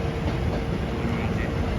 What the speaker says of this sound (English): So there's the Q train, just left us.